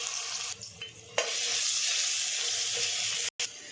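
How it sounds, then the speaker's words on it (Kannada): Ginger garlic paste hits hot oil in a pan and sizzles loudly and steadily, with a brief stirring scrape near the start and a short pause near the end; no voices. "ಎಣ್ಣೆ ಸ್ವಲ್ಪ ಬಿಸಿ ಆದಮೇಲೆ 1 ಸ್ಪೂನಷ್ಟು ಶುಂಠಿ ಬೆಳ್ಳುಳ್ಳಿ ಪೇಸ್ಟ್ನ ಹಾಕ್ತಾ ಇದ್ದೀನಿ"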